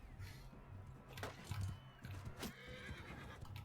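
A horse whinnies while hooves clop intermittently during a battle in the video game Mount & Blade II: Bannerlord, with sharp bursts and rustling, fairly quiet overall.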